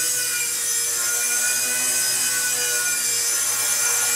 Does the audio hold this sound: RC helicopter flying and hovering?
yes